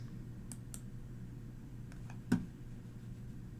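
A single sharp computer mouse click, close and quiet, with a few faint softer ticks earlier over a low steady room hum.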